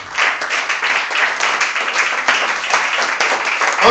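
A church congregation breaks into applause during a worship service, with continuous, close, bright clapping from many hands holding steady throughout.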